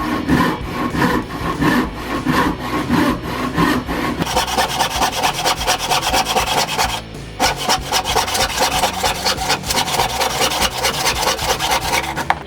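A freshly sharpened Bay State Saw Works hand saw rasps through wood in a close, rapid rhythm of push-and-pull strokes, quick and choppy at first and then longer and steadier, with a brief pause midway and no talking.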